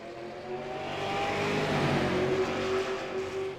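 A race car accelerates around a short oval track, its engine note rising and swelling as it comes closer and pulls through the turn, loud and alone with no talk.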